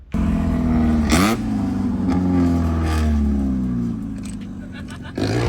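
A Mazda Miata with a straight pipe exhaust revs loudly close by, the engine climbing and falling through several sharp throttle blips, with a raspy, unmuffled tone.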